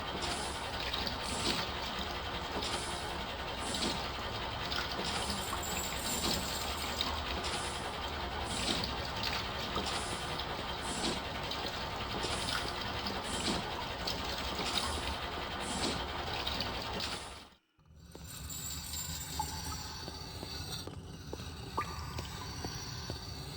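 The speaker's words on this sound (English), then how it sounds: "It pumps the water in and out endlessly according to immediate needs." A water pump in The Black Mirror runs as a steady mechanical churn with a regular sloshing, pumping rhythm, cutting out briefly to near silence before resuming somewhat fainter.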